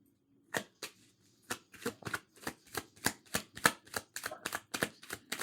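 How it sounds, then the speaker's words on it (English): Playing cards are shuffled in a rapid series of crisp riffling bursts, close and clear, with brief pauses between them. "Let's shuffle well."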